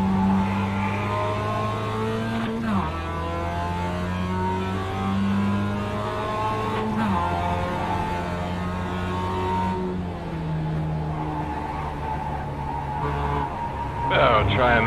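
A race car engine in the iRacing sim drones steadily at high revs, its pitch stepping down and climbing again through gear changes, while someone talks over it throughout.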